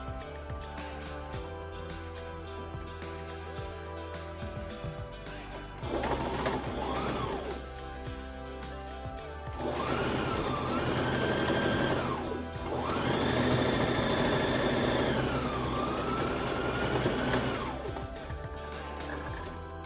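A sewing machine stitches a curved seam on a fabric face mask, running in several close, loud whirring bursts of rapid needle clatter that rise and fall in speed, with short pauses between runs.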